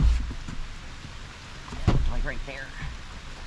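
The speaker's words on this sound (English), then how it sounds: "It started raining again." Rain patters on the ground and materials at an outdoor fort-building site, a soft continuous hiss under brief talk, with a few nearer thumps and knocks from work.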